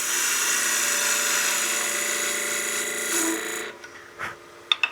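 A wood lathe spins a wine glass blank as a tool trues up the tenon end, a steady high whirring and scraping that runs loud for several seconds before cutting off, leaving a few faint knocks.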